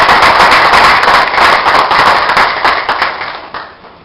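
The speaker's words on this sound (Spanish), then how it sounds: "Así que por favor brindémosle un fuerte aplauso a nuestro querido hermano." A loud, dense round of applause from a congress audience fills the space, steady at first and then gradually tapering off toward the end.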